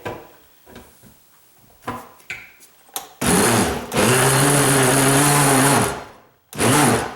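A few clunks and clicks, then a loud blender whirs at high speed, cuts out briefly, and starts up again.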